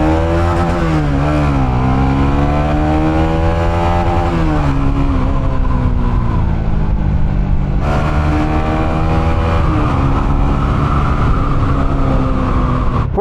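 A Honda Winner X motorcycle engine revs up through the gears on an open road, loud and close. The pitch climbs, drops at each shift, then climbs again, with no talking.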